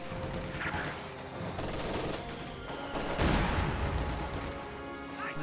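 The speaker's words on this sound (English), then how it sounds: "Heavy mortar bombarding this area." Heavy mortar and gunfire bombardment in a strategy video game, a dense, continuous crackle of distant shots and muffled explosions with a sharper burst midway.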